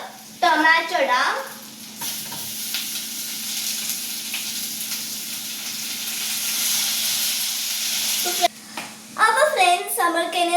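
Tomato dropped into ginger-garlic paste frying in hot oil gives a loud, steady sizzle and hiss that runs for several seconds, with talk before and after it.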